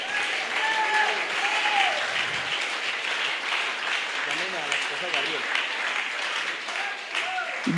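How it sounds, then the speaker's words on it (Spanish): A church congregation breaks into sustained applause during a sermon, dense clapping that fills the room while voices call out over it. "Un aplauso para él,"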